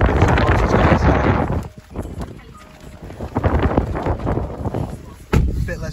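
Strong gusty wind buffets the microphone outside a Jaguar XJ, loud rushing bursts that rise and fall in waves and briefly drop away near the middle, with no talk.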